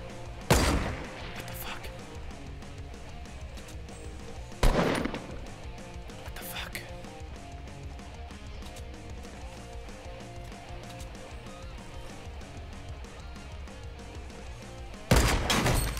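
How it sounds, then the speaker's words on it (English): Gunfire in Fortnite Battle Royale, a few sharp isolated shots standing out against a steady game background hum. "I thought I heard somebody else shooting at us."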